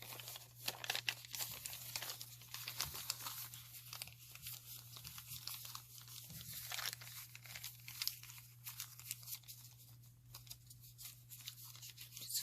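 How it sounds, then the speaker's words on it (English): A paper map printed on both sides is crumpled and folded to distress it, giving continuous close, crisp crinkling and crackling, faint under a low steady hum. "Just folding it up the other way and doing the same thing on the other side."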